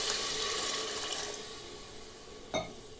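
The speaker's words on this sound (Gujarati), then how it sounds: "હવે એમાં આપણે પાણી નાખી દઈશું જરૂર મુજબ" Water pours steadily into a pressure cooker pot of tempered stuffed brinjal and potato curry with a soft rushing hiss that gradually tapers off, followed by a single hollow knock.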